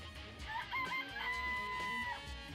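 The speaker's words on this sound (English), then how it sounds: "I remember there were some chickens in the chicken coop." Chickens in a coop in the video game Danganronpa: Trigger Happy Havoc give a drawn-out, close crowing call with clucking over a low ambient game backdrop.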